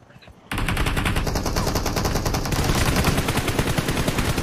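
Rapid automatic gunfire from a shooter video game, loud and continuous, with bursts of shots rattling on without pause after a brief quieter opening.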